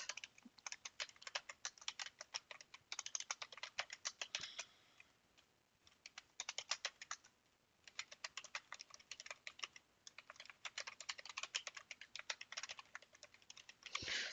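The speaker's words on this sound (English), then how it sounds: "Sorry about the keyboard sound, guys, and I cannot help it." Rapid computer keyboard typing in close bursts of clicky keystrokes, pausing briefly now and then before resuming; no voices.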